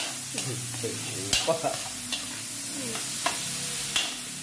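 Onions sautéing in a pan give a steady sizzle with stirring scrapes and clinks at irregular intervals, close and moderately loud, with no talking.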